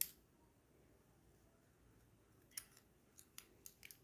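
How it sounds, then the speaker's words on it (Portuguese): Scissors snip through pink crochet yarn: a few quiet, sharp clicks close by against faint room hiss. "eu vou vir com a minha tesoura e vou cortar o meu fio rosa"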